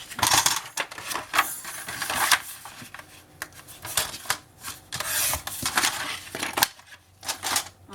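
Paper being cut for a scrapbooking planner, with repeated crisp snipping and rubbing strokes close by, short bursts coming in an irregular rhythm with brief pauses.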